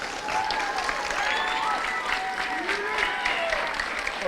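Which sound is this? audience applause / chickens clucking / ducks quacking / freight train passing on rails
audience applause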